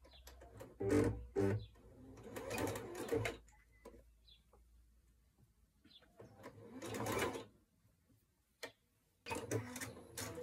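A sewing machine stitching the crotch seam of a pair of trousers, several bursts of rapid mechanical whirring separated by pauses, close by with no talking.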